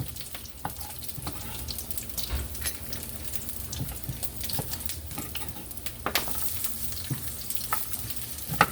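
Carrots frying in a pan for a honey chicken ramen dish, a steady close sizzle with scrapes and clinks of stirring and occasional spatters.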